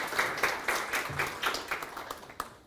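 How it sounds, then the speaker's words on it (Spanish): An audience at an academic constitutional-law panel gives a panelist a round of applause, a moderate crowd clapping with distinct audible hand claps, fairly close and tapering off by the end. "un fuerte aplauso para nuestro docente"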